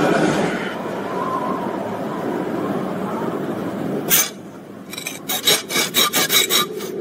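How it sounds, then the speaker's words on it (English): Harsh rasping scrapes against the ground or a bench in a night-time horror short film, one sharp drag followed by a rapid series of six or so rhythmic scrapes, loud and close over a low ambient rumble. "I hate that scraping sound"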